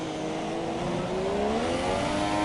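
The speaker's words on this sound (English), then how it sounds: "Sometimes when I ride on board with him, the engine just seems like it's too low in the revs." Race car engine from the F1 2017 video game, Malaysia circuit, revving loudly and steadily with rising pitch as it accelerates, sounding like an onboard view with no talk over it.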